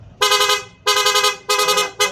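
Loud, bright electric PIA horn blasts on a Senlo M1 Plus motorcycle, four honks of varying length with short gaps, close by and dominating the scene.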